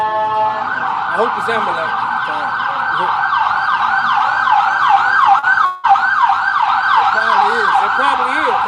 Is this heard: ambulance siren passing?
yes